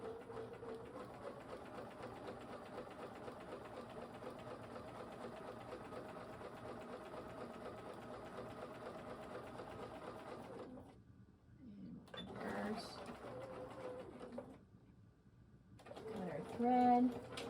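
A sewing machine stitches a seam at a steady, rapid mechanical rhythm for about ten seconds, then stops; short bursts of handling noise and a brief spoken moment follow.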